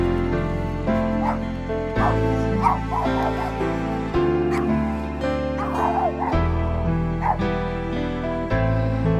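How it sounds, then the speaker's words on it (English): A dog barks and yips repeatedly at close range, with whimpering in between, mixed with steady background sound or music. "There's a dog!"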